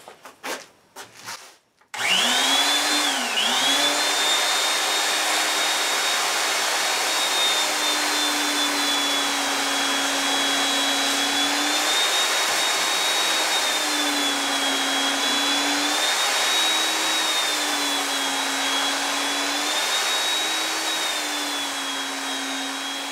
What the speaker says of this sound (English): I got to sand the edges all the way around, round off the corners.